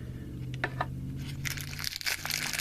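A plastic bag and the packaging of a Sitivien ST101 folding knife box are handled nearby, giving scattered crinkles and rustles that grow into louder crackling.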